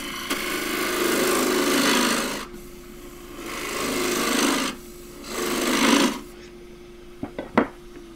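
A 3/8 bowl gouge cuts a thin wooden pot spinning on a lathe, producing three rasping, hissing passes of a couple of seconds each with quieter hum between them, followed by a few small knocks at the end.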